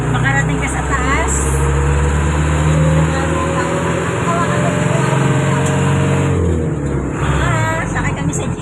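A jeep carries riders up a wet road in Tagaytay City after rain. Its engine drones loud and steady with a deep rumble throughout, and passengers talk over the noise.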